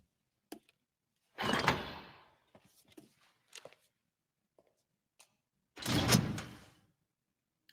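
A door closing during a tense break-in scene at Langley in Mission Impossible, heard as two separate broad whooshing thuds with faint scattered clicks and rustles between them in an otherwise quiet room.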